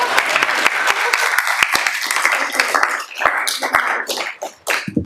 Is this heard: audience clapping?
yes